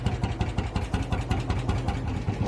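A single-cylinder tractor engine idles with a steady, rapid chugging thump, each firing pulse evenly spaced and close, running continuously without any voices over it.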